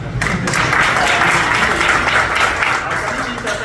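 A lecture audience applauds steadily throughout, a dense, continuous patter of many hands at moderate loudness with a faint hint of voices underneath.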